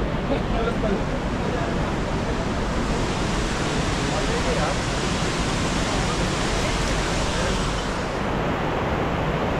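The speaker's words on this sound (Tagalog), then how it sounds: "Yun yung falls." Roaring waterfall at Johnston Canyon in Banff, Alberta, a steady dense broadband rush of falling water that stays loud and unbroken from start to finish, with no pauses.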